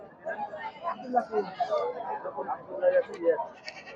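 Black Bengal goats at a livestock market bleat repeatedly amid a busy crowd, their calls overlapping with nearby chatter.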